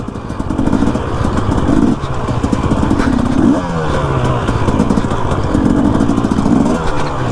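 A dirt bike engine running in second gear on rough terrain at a former military bombing range in Mexico, a loud steady motorcycle drone with rhythmic rises and dips in revs and rattling clatter throughout.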